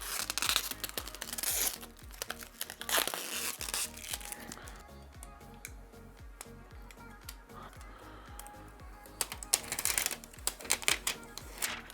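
Protective plastic film peeled off an ASUS TUF Gaming RTX 4070 Ti OC graphics card, with crinkling and tearing bursts at the start and end and quieter handling crackles between.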